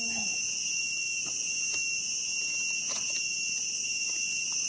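Steady, high-pitched insect buzzing in a forest, with piercing continuous tones, pulsing slightly in loudness, close and loud with faint crackles beneath.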